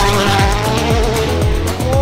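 A Hyundai WRC rally car slides sideways through a corner on the Acropolis Rally, its engine roaring loudly and close with rapid rising and falling revs and gear changes, tyres scrabbling on the road.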